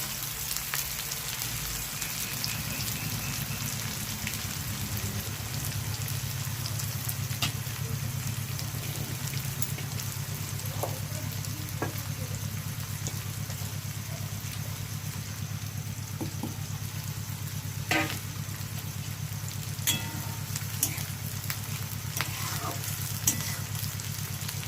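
Chopped onions frying in a pan, a steady close sizzle with occasional crackles and stirring scrapes, continuous and moderately quiet.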